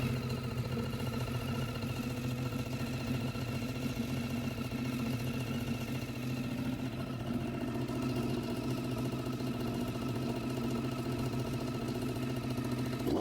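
A Triumph Daytona 675 motorcycle engine runs at a steady idle, a constant, busy mechanical drone heard close by with no talking.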